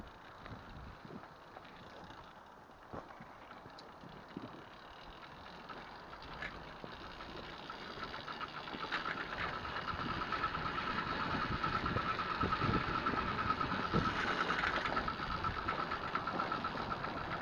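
Two-stroke chopper motorcycle engine running outdoors on icy ground, a raspy, uneven puttering that builds gradually from faint to steadier and louder, with wind rumble mixed in.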